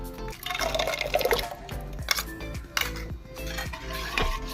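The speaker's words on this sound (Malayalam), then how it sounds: "ചെറിയ തേങ്ങയുടെ ചെറിയൊരു കരിയരിപ്പൊക്കെ ഉണ്ട് നമുക്കിത് പരിപ്പിലേക്ക് ഒഴിക്കാം" Coarsely ground coconut paste poured from a vessel into cooked lentils for dal, giving soft wet slops and light pan clinks under steady background music.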